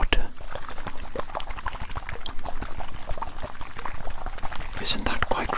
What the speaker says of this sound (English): I love the glug glug glug sound here.